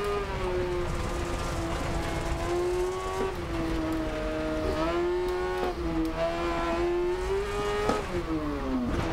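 A cross kart engine in the racing game DiRT Rally 2.0 revs hard and continuously, its pitch climbing and dropping sharply with each gear shift and corner, loud and alone with no talk.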